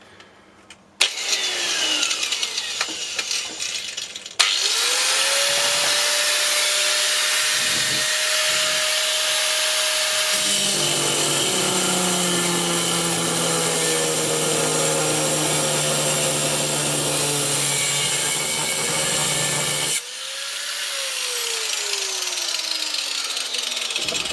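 Dewalt DCG405N 18 volt 125mm cordless angle grinder spinning up and cutting, a loud, sustained high whine with a harsher grinding tone mid-cut, close and continuous, briefly dropping before resuming.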